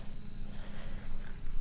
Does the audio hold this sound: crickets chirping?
yes